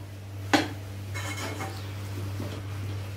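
A metal spoon scrapes and clinks against a pan while palak paneer bhurji is mixed: one sharp clink, then a few soft scraping strokes over a low steady stove hum.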